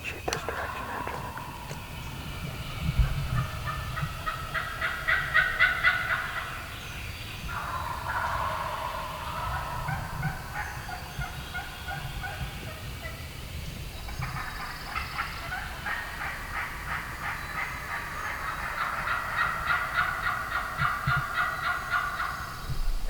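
Wild turkey gobblers on Mississippi public land gobbling close by during a spring hunt, repeated loud rattling gobbles in bursts over the whole stretch, with people whispering quietly underneath.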